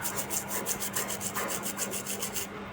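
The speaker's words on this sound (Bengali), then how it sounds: "ব্রাশ দিয়ে আমি পুরো ঘষে নেব" A used brush scrubs a gold ring during home jewelry cleaning. Steady, rhythmic bristle rasping repeats close up for a few seconds, with no talking.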